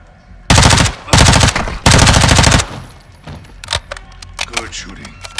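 Call of Duty Modern Warfare II (2022) gunfire in Las Almas, Mexico: three long, loud automatic bursts back to back, then scattered fainter shots and clatter trailing off.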